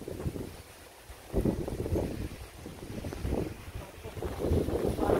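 Gusts of wind buffet the microphone in uneven surges, rising and falling over a few seconds, fairly loud and close, with no speech.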